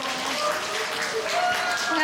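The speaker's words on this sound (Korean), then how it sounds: "큰 박수 부탁드립니다" Applause from an audience greets a team leader being introduced at a sales case presentation contest, a moderate steady clapping that sits at middle distance with a faint tonal hum underneath.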